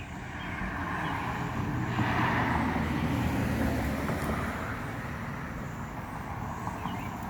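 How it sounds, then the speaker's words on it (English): Outdoor roadway traffic rumbles as a broad, continuous wash of passing vehicle noise, swelling slightly then easing, with no voices present. "Sorry for traffic noises."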